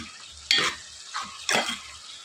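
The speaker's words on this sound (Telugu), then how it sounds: "ఆనియన్స్, బఠానీలు, వంకాయలు అన్నీ కూడా బాగా మిక్స్ అయ్యేలా కలుపుకోవాలి" Eggplant, peas and onion curry being stirred in a pan: two distinct scraping stirs about a second apart over a soft, steady sizzle, with no talking.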